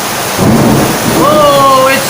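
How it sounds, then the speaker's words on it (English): Thunder rumbles loudly across the hills of Meghalaya in northeast India, a deep rolling swell mixed with rain, and a voice briefly exclaims over it toward the end. "Whoa, it's thundering."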